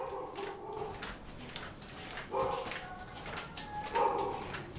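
Dogs whine and howl in drawn-out, wavering cries along with a woman singing, rising in a few swells against a noisy background during a power outage.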